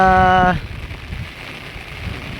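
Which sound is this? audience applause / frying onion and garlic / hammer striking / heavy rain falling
heavy rain falling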